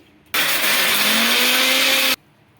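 A kitchen mixer grinder whirs through fire-roasted raw mango chutney in one loud, continuous burst of about two seconds, its pitch rising slightly before it stops abruptly into near silence.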